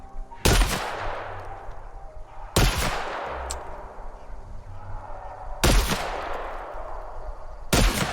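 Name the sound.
shotgun gunfire in the video game The Outer Worlds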